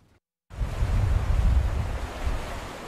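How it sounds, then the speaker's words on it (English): Rushing water along the Fox River in January, a steady broadband roar with wind-like noise that swells in suddenly after a brief near-silence and holds loud and close throughout. "The sounds of rushing water along the Fox River in January"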